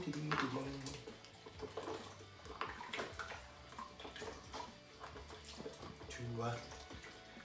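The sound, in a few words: hot water poured into liquid malt extract can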